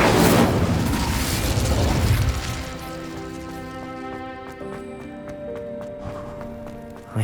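Incendio fire spell cast in Hogwarts Legacy, a loud burst of roaring flame and crackle that fades into a sustained magical shimmering tone with layered ringing harmonics, no talk.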